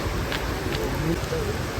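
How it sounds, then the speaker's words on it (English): Rain falling in Cochin, Kerala, a dense steady hiss of rainfall close by, continuous and fairly loud for the whole short stretch. "as soon as we reached Cochin, we were welcomed by rain"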